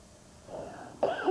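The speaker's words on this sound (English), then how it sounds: "Still have that cough and sickness." A young child, a 4-year-old boy sick with a contagious bug, coughs: a soft lead-in then a sharper burst of two or three harsh coughs close by, fairly quiet, with no talking.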